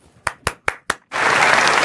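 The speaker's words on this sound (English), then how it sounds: "You're applauding" Four sharp separate claps ring out, then a studio audience breaks into sustained loud applause that fills the rest.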